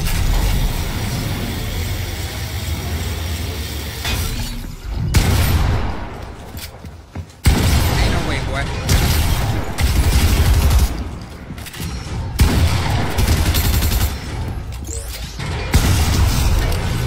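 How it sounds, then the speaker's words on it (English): Distant exchange of gunfire in Fortnite, repeated bursts of shots and booms rolling through a dense, loud game soundscape with brief quieter gaps. "They're still firing at each other over there."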